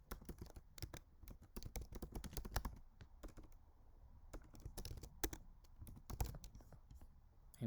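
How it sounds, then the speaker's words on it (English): Quiet, close typing on a computer keyboard, a rapid irregular patter of light key clicks with brief pauses between bursts. "I'm going to type the name."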